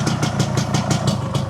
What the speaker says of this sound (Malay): Jom kita panaskan enjin